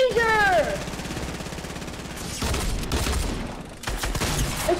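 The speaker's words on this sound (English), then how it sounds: "Oh, shoot, he's shooting me." Video game gunfire crackles in rapid bursts under excited talk from players, with whooshing effects at the start and a louder volley near the end.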